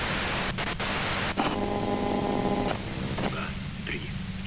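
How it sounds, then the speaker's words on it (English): Loud hiss of radio static in the Disco Elysium video game, a dense wash of white noise broken by a couple of brief dropouts, then a faint warbling tone layered underneath as the signal shifts. "If you've got something really important to say, you can do it through the white noise."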